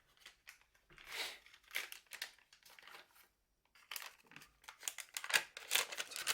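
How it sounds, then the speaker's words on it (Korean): Plastic bag crinkling and rustling in several bursts, close by, as small broken airsoft pistol parts and a spring go into it during disassembly of a VFC Glock replica, with no talking. "여기다 이 봉투에 넣도록 하겠습니다"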